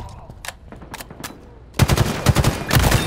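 Rapid automatic gunfire in Halo Infinite multiplayer, scattered shots at first, then a loud sustained close burst of fire over the last half.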